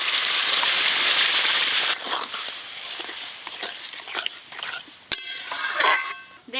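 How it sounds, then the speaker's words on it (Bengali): Boiled mung dal is tipped into a hot tempering pan over a wood fire, setting off a loud, hissing splash that fades into quieter stirring scrapes and a sharp clink or two. "এবার ডালটা ছকে দেবো। সেদ্ধ করে রাখা মুগের ডাল"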